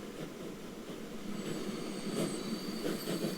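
Train rolling along in the Transport Fever 2 game, a Great Northern Railway service, with a steady rumbling run, faint wheel squeal and thin high tones riding over it, moderately loud and with no talk.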